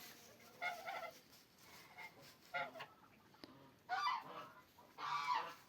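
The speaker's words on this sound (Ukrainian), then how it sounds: "Гуси кричать." Several geese honk in loud bursts at irregular intervals, close by, with quiet pauses between calls.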